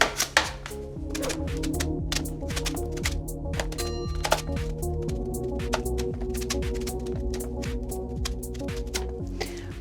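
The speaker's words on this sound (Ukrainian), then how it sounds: "моркву і кабачок спочатку треба або нарізати, або натерти тонкими слайсами" Carrot and zucchini being sliced on a board, a rapid series of sharp knife chops and thuds in an uneven rhythm, close and fairly loud over a low steady hum.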